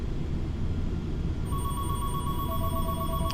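A telephone rings in a noisy aircraft cabin during a flight from Atlanta to Los Angeles, a steady electronic tone starting partway through over the constant low engine roar.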